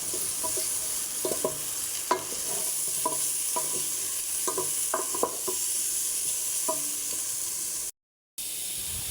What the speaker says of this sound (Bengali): লবণটা দিয়েও আবার কষিয়ে নেব।